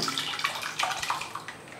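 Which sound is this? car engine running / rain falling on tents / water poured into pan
water poured into pan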